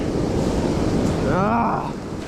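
Ocean surf rolls onto a Costa Rica beach, a steady loud wash of breaking water mixed with wind noise buffeting the microphone, with a brief higher whistling sound partway through.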